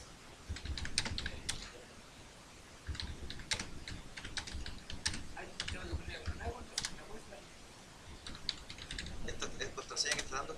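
A Unix password being typed on a computer keyboard gives quiet, irregular bursts of clicky keystrokes with short pauses between runs.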